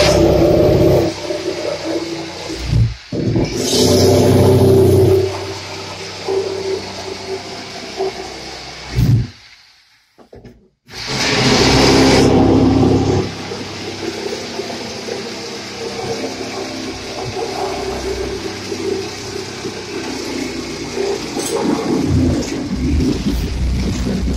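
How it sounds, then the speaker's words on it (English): A saw blade with teeth all the way around plunges into a wall panel during a pocket door install, a loud, close, rough buzzing grind that runs in sustained stretches, breaks off briefly midway, then resumes steadily with no talking. "this blade is nice because it's got teeth all the way around it, so watch how it just plunge cuts right in"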